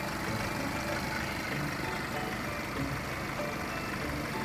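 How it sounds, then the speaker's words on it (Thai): A Nissan Navara 2.5 Calibre diesel pickup engine idles steadily nearby, a smooth low rumble with a faint rattle, holding an even level throughout with no talking. "เสียงเครื่องยนต์ก็เงียบๆนะครับ เครื่องนิ่มมาก"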